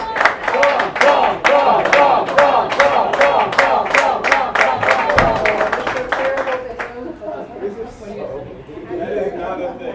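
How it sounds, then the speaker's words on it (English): Cheers, claps and chatter from a curling crowd at a mixed doubles draw, rising as a volunteer helps players off the ice; dense rhythmic clapping fills the first six seconds, then fades into murmuring. "They were cheering the volunteer that was helping them off the ice."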